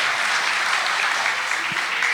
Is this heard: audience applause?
yes